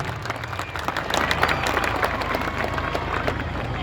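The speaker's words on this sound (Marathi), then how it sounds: "एकदा आदरणीय आरजीजी चांडक सरांसाठी जोरदार टाळ्या झाल्याच पाहिजे." Applause from an audience at a school drawing competition event at Shastri Stadium, Akola, honouring an official; steady dense clapping of a crowd throughout, fairly loud and sustained.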